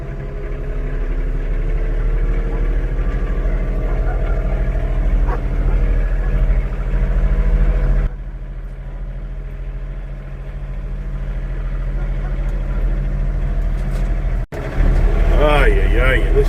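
A lawn tractor engine runs steadily while being ridden, a close mid-pitched drone that drops in level partway through before returning loud, with someone talking over it at times.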